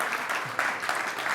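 A brief burst of audience applause at the Detroit Executive Association's Executive of the Year 2024 presentation, with close, dense clapping that holds steady through the moment.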